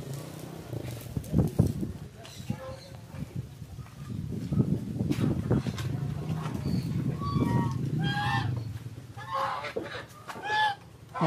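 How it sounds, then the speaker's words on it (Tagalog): Geese call at a farm in Pampanga, with honks and cackling scattered among other poultry noise, heard under people talking nearby. "Mga gansa."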